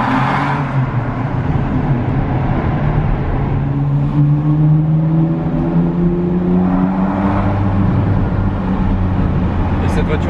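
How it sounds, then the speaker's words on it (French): A Ferrari V12 engine roars steadily from inside the cabin of a manual-gearbox car, its pitch rising and falling through acceleration, with a person talking over it. "Dès que vous accélérez, vous avez le V12 qui rugit."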